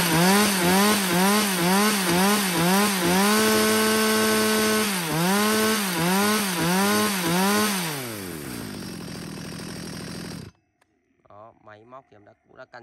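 A STIHL 020 chainsaw with a 40cc engine, running close and loud, revving up and down in repeated bursts, holding a steady high rev, then winding down and cutting off, followed by brief talking.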